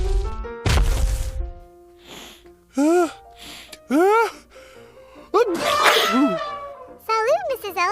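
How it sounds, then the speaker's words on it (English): A loud, explosive sneeze near the start, followed by sniffles and a few short, sung or exaggerated vocal sounds with rising and falling pitch. "That was a big sneeze."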